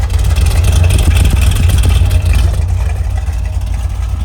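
A deep, rumbling 1968 Chevrolet Corvette L79 327 V8 with a new exhaust idles steadily close by, a throaty low growl with a slight uneven pulse throughout.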